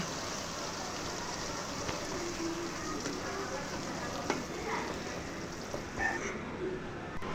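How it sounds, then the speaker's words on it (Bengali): Mustard paste and garlic paste stir-fry in hot oil for an olive pickle, giving a steady, dense sizzle that runs without a break, with a few soft scrapes of a stirring spoon close by. "সরিষা বাটা ও রসুন বাটা দিয়ে দিব দিয়ে এটা আমি ভালোভাবে বেজে নেব অনবরত নাড়তে থাকবো"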